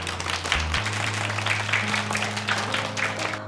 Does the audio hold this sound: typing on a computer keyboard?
no